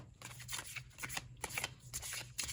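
Playing cards for a colouring-themed card draw being shuffled and drawn, a quick run of crisp riffling flicks and slaps, close and fairly quiet.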